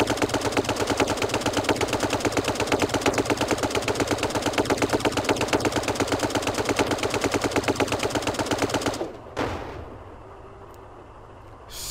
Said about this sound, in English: Trying to shoot the mirror out.